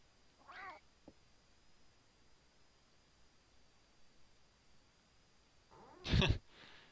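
A cat meows in the Super Famicom game Clock Tower: first a faint short mew, then after a quiet stretch a loud, harsh caterwaul.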